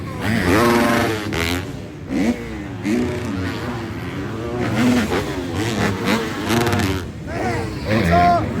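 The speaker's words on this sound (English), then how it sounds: "All I hear is rev limiters. That sweet sound." 250-class race motorcycles scream past one after another at a motocross race, engines bouncing off their rev limiters in loud, continuous, overlapping wails that rise and fall throughout.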